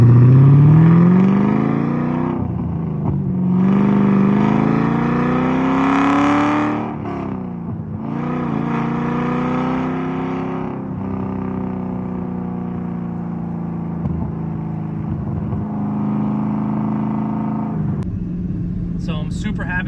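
A V8-swapped BMW's exhaust revs up and down with a deep, throaty drone, its pitch rising and falling repeatedly, loud and close throughout.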